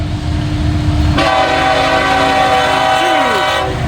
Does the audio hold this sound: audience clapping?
no